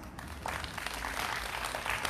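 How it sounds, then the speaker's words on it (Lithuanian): Outdoor courtyard concert audience applauding a group of young musicians, a brief burst of quick, fairly faint clapping spread across many hands. "jūsų karščiausių plojimų nusipelno"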